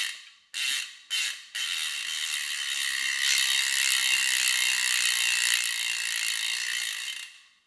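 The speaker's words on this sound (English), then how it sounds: "That's the other thing with the Star ratchet system," A Star ratchet bicycle freehub buzzes loudly as the wheel spins, a few short bursts of clicking giving way to a long, continuous whirring ratchet sound that fades at the end.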